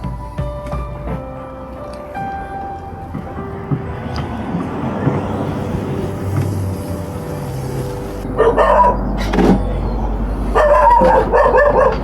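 Dogs bark in several sharp bursts, with yips and whimpers mixed in, loud and close, while voices talk underneath.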